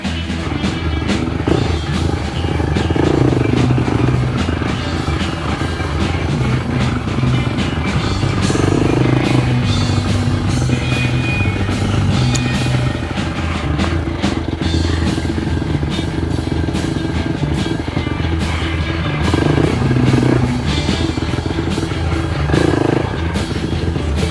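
Honda XR600R motorcycle engine on a trail ride, a loud, continuous rough thumping drone with clattering from the bike and terrain, swelling in repeated surges of revs over about twenty-four seconds.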